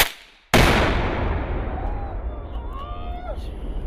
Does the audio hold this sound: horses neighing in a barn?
no